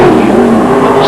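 Sportsman division race cars roar past on a short oval racetrack in 1989, a loud, sustained engine drone with a steady pitch, close and dominant throughout the brief moment.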